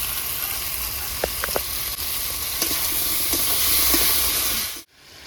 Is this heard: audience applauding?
no